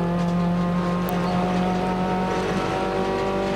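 A Nissan March race car laps Mobility Resort Motegi in a late-race stint, recorded from inside. The engine drones loud and steady with a sustained whine and tire and road roar, and no voices.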